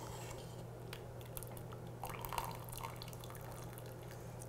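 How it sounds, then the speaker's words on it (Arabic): Water draining from a pot of soft boiled potatoes being made into mashed potatoes, a soft steady pour and drip under a constant low kitchen hum, without speech. "We will drain all the water from the potatoes."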